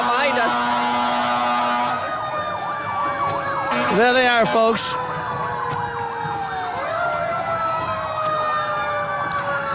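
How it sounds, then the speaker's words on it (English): Fire truck sirens wail and yelp at a July 4th parade, several overlapping rising and falling tones with a brief air-horn-like burst, loud and approaching, while a voice speaks over them. "Speaking of noise, I hear some fire trucks coming up behind us."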